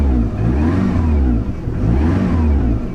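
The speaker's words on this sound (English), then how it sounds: "And then you give it a rev and it will work." An old van's engine revs up loudly and close, its mid-pitched roar swelling, dipping briefly, then climbing again, with a rattly clatter underneath.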